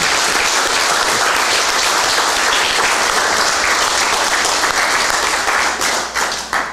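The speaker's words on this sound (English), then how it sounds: "One more round of applause for Skyler Zoll" An audience at a high school fall signing day ceremony gives loud, dense applause for a student athlete, steady throughout and tapering slightly at the end.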